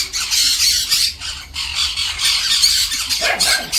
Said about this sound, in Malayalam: രണ്ട് കിളികൾ തമ്മിൽ അടി